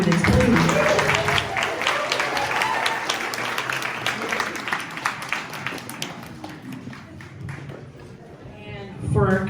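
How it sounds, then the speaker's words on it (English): Dense applause from an awards ceremony audience fills the room, loud at first and then thinning into scattered claps, with a voice speaking briefly at the end. "Round of applause for our candidates, please."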